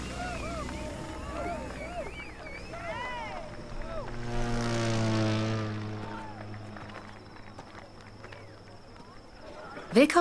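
A propeller airplane engine in the racing video game The Crew 2 drones steadily and swells loudest near the middle, under game music and voices.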